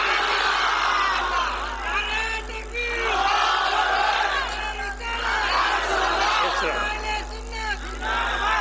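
A large crowd shouts a slogan in unison in repeated rhythmic bursts, loud and close, with brief dips between the chanted phrases over a steady low hum.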